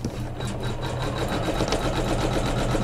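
A sewing machine tacks down the borders of a quilted pillow, its needle running in a steady, fast, close mechanical patter throughout.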